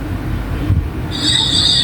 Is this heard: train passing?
yes